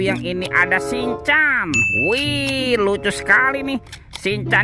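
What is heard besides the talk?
None of the usual background noises is heard.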